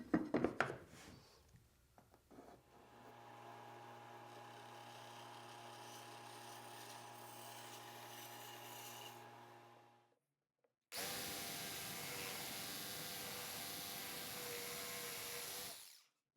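A bandsaw cuts a wooden cutting board along a traced template: first a steady motor hum for several seconds, then, after a brief pause, a louder, rougher cutting whine that lasts about five seconds, close by.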